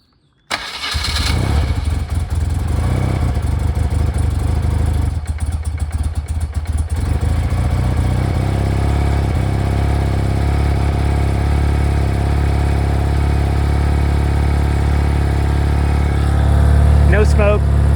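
A 1992 BMW R100GS motorcycle cranks and fires on half choke from cold, settling into a loud, steady boxer-twin idle close by, with a brief rev near the end.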